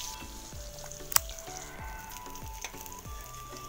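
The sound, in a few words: eggplant frying in a pan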